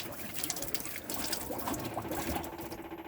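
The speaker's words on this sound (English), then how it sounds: "you'll have water run out of every tap on board the caravan continuously" Water runs steadily from a tap on a 2010 Vanmaster caravan in a thin, continuous trickle, faint and close by, with no voices over it.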